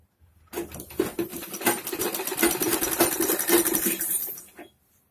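A sewing machine runs steadily while stitching a samosa-cut churidar pajami, its rapid needle clatter continuous for about four seconds before stopping, close and clear with no talking.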